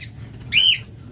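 A single sharp, shrill call from a pet lovebird, loud and close, rising briefly out of low background hum, with a faint chirp just before it.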